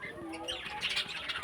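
Large pet birds give close chirps and coo-like calls, with a brief rustle of wings, in short overlapping bursts over a slightly noisy background.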